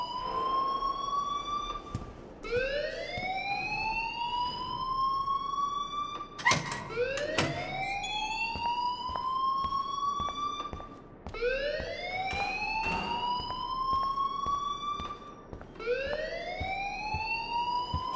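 A rising and falling electronic alarm wails in Life Is Strange, sweeping upward in repeated siren-like cycles that stay loud and continuous throughout, with a brief clattering burst partway through and no one speaking.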